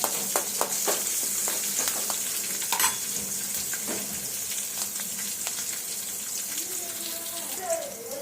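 Ginger, garlic, curry leaves and chilli frying in hot oil for a prawn dish, a steady close sizzle with scattered stirring clicks and scraping throughout, plus brief watery splashes and a faint voice near the end.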